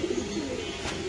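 Black Danish pigeons coo at a pigeon farm in Mirpur, a soft low repeated cooing close by with a faint background hiss.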